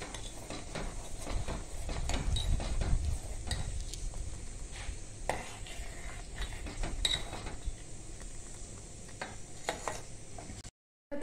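A spoon scrapes and stirs coarse cashew and almond powder cooking in a pan, close-up, with irregular clinks and scraping strokes over a low background hum, ending in a brief silence.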